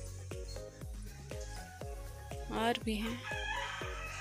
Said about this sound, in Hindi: कितना सारा मेरा मुर्गा मुर्गियाँ हैं